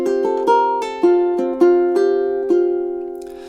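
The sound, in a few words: ukulele melody, measures 13 and 14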